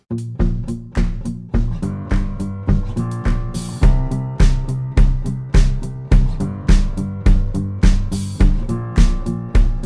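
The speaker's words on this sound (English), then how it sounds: "In the second half of the verse, the stomp comes in with a slightly more involved drum part." The verse of a song plays with a heavy stomp and a busier drum part driving a steady, punchy beat under the chords. The music is loud and continuous, with no talking.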